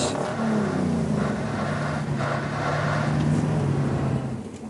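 Scrap-built twin-engine mud runner vehicle revving both engines, a loud close rough engine drone with a steady low hum that rises in pitch in the middle and holds before easing off at the end.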